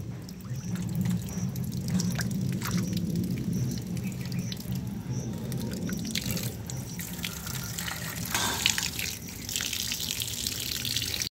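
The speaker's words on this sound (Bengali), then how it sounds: "ধুয়ে এখন একটুখানি জল ঝরাতে দিয়ে দেবো।" Water running and dripping off freshly washed mutton as it drains in a kitchen, a steady trickle with drips and splashes, moderately loud, continuing for about eleven seconds.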